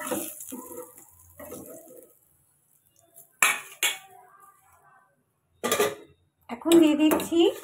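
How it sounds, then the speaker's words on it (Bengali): Fried potatoes and drumsticks scooped from a pan into a bowl in a home kitchen, heard as several sharp metal clinks and scrapes of a utensil against cookware, separated by quiet gaps. "আলু আর সজনে ডাঁটা আমি তুলে নিচ্ছি একটা বাটিতে"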